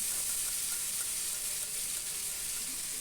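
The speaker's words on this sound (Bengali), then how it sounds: "এবার এটাকে আমি একটু কষিয়ে নেব মশলাটাকে একটু কষিয়ে নেব" Mustard paste and green chili paste sautéing in oil for a hilsa fish dish, giving a soft, even, hissing sizzle that stays steady throughout with no distinct stirring strokes.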